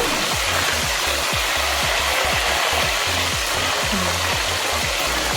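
Banana slices for crispy salted chips sizzle in hot oil in a pan, a loud, continuous frying hiss with a low rhythmic thumping beneath and no talk.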